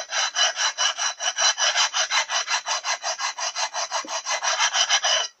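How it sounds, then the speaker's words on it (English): A flat stone rubs back and forth over the machined surfaces of a cast iron Powerglide transmission case after gasket removal, giving close, loud, rhythmic gritty rasping strokes, about five per second, without talk. "I'm just going to run a stone carefully and flat over all the surfaces."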